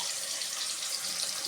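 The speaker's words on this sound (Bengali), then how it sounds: "ধুয়ে একটু জল দিয়ে দিলাম।" Water runs into a mixer grinder jar as it is rinsed while cooking prawns with cabbage, a steady close hiss of pouring water with no talking.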